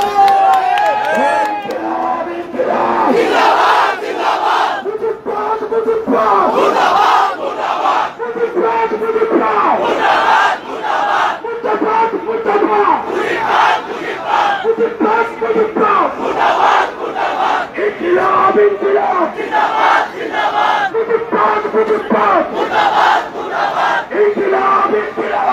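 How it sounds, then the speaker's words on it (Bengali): A large, loud crowd at a Gopalganj political rally chants slogans in unison, rhythmic shouted phrases repeating continuously with cheering mixed in for the whole stretch. "ওই সময় একসাথে স্লোগান দিব আমরা"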